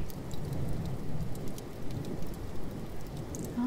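Heavy storm rain hisses evenly throughout, with a low, muffled thunder rumble underneath and scattered brighter drips on top; nobody speaks.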